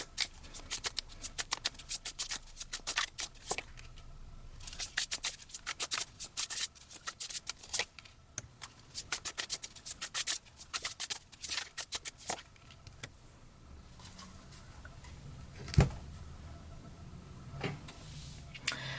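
Tarot cards are shuffled in quick riffling bursts of crisp flicks and slides at close range, easing into sparser handling near the end, with no talking.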